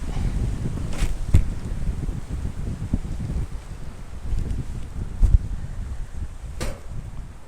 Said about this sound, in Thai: ตอนนี้ลมโคตรแรงเลยนะครับ